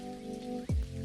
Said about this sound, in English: Love the rain and the rain sounds in video games.